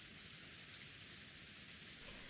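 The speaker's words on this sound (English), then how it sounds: "the peaceful sound that had put her to sleep was actually the rain" Steady rain falling in Umineko: When They Cry, a soft continuous hiss of dense drops with no breaks, evenly spread and moderately faint, with no voices over it.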